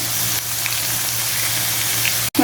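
Vegetables fry over a high flame in a pan as two eggs go in: a steady close sizzle, a brief cut-off, then a fresh burst of crackling as the eggs hit the hot oil. No voices are heard.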